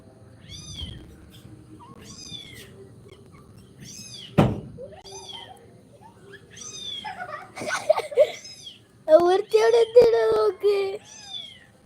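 A white mother cat's kitten meows in a string of short, high cries, some close and loud, over a low background hum, with a single sharp knock partway through and several louder overlapping cries near the end.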